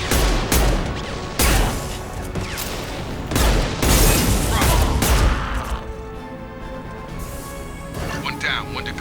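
Gunfire in Mass Effect 2 comes in heavy repeated bursts and booming shots, loud and close, with game voices talking between volleys.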